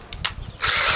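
Power drill boring a pilot hole in wood for a deck screw, a short close burst of high whirring after a couple of faint clicks.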